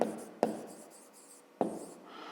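Pen scratches on notebook paper during a fifth-grade math exercise, with two sharp taps as the pen touches down and soft continuous strokes between them.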